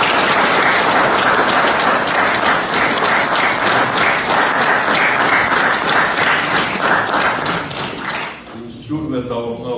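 Long, sustained applause from a large crowd at an award ceremony, loud and dense clapping that holds steady before thinning out near the end, with faint voices emerging.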